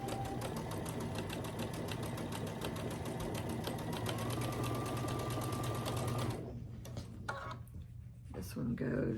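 Sewing machine stitching quilt pieces together, a fast steady mechanical chatter that runs for about six seconds and then stops, followed by a few softer handling sounds.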